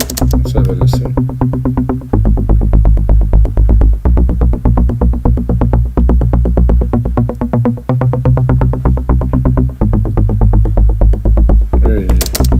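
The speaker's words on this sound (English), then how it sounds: "Really, such a synth." Melodic techno line on a synthesizer, a steady pulsing, throbbing sequence with a low hum underneath, loud and continuous for the whole stretch.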